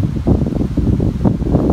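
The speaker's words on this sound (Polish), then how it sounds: "Wiatr dzisiaj jest niesamowity." Strong wind buffeting the microphone at an abandoned quarry, a loud, low roaring rumble that gusts unevenly throughout, with nothing else audible.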